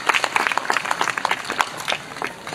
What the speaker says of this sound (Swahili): Makofi kwa Wallace Karia